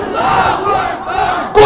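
A crowd at an Islamic sermon gathering shouts the Naraye Takbir chant together, a loud massed roar of voices that swells and dips, then briefly breaks off before rising again.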